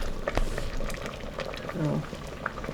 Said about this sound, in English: So once it starts bubbling like that, cook it for another 3 minutes.